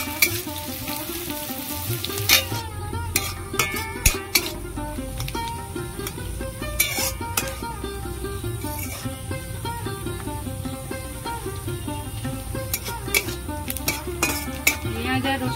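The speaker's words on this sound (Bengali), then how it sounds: "পেঁয়াজ আর রসুনটা আমি অর্ধেক ভেজে নিয়েছি, অর্ধেকটা তুলে নেব।" Chopped onion and garlic fry in a pan for a Bengali taro-leaf ghonto, a steady close sizzle broken by scraping stirs and sharp clinks of a spatula against the metal.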